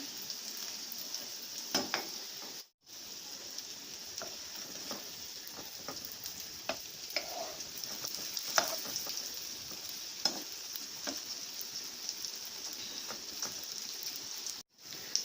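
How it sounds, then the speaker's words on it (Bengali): Soft Korean egg rolls fry in a pan with a steady close sizzle, broken by light scraping and stirring touches and two brief gaps of silence. "আলতোভাবে একটু চেপে চেপে ভাজতে হবে, যাতে সব দিক দিয়ে একটু কালার আসে।"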